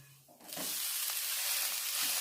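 Mixed vegetable uttapam topped with onion, capsicum, cabbage and carrot sizzles on a hot pan, a steady close frying hiss that swells up suddenly after a brief quiet start and then holds evenly.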